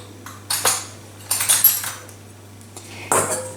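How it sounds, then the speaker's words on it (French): A knife cuts the tops off hot cooked potatoes, making a few sharp metallic clinks and taps against a plate or dish, spaced irregularly, close and crisp with quiet pauses between. "je vais couper la partie supérieure de la pomme de terre. Je vais couper 2 petits chapeaux."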